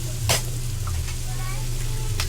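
Ginger, garlic and onion sizzle steadily in hot oil alongside turmeric chicken, a continuous frying hiss broken by a few sharp spatula scrapes and stirring clatters, with a low hum of the stove underneath.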